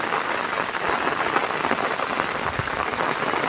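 Heavy monsoon rain pours down steadily over a farm in rural Konkan, a dense, continuous hiss of drops striking the ground and surfaces, loud and even throughout with no voices.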